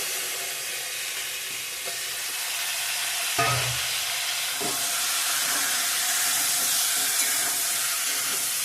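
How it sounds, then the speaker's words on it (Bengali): A potato, tomato and eggplant curry fries in a pan, giving a loud, steady, close sizzle and hiss throughout, broken by a couple of brief knocks from stirring. "ভালো করে ভেজে নেবো আর একটু ঢেকে দেবো"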